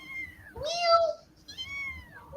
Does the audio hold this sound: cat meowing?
yes